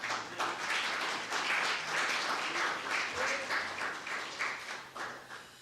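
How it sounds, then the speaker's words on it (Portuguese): Church congregation applauding, a steady wash of clapping from many hands that holds at an even level throughout and thins slightly toward the end, with no talking over it. "Você pode aplaudir o Senhor."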